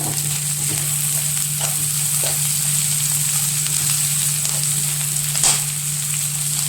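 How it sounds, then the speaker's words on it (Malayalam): Curry leaves frying with ginger and garlic in a pan for kappa biriyani, with a steady close sizzle, a low hum beneath and a few soft stirring scrapes. "അതിലേക്ക് കറിവേപ്പില ഇട്ട് കൊടുക്കാം. നന്നായി ഇളക്കി കൊടുക്കുക."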